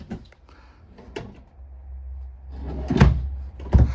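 A few wooden knocks and thumps as non-soft-close drawers in a 2024 Keystone Cougar 355FBS RV slide open and shut, with a low hum underneath and two sharper bumps near the end.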